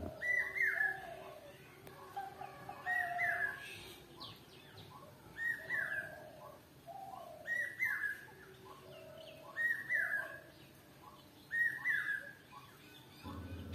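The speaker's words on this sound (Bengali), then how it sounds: "সেই ভোর থেকে একসাথে এত পাখি ডাকতে শুরু করে" Birds call in the early morning, with clear whistled phrases repeating about every two seconds over softer chirps and tweets from others, all fairly faint and distant with no talking.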